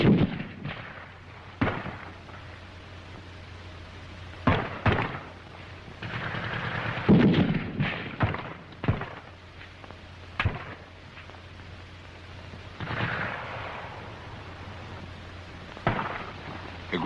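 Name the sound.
grenade explosions and gunfire in WWII training film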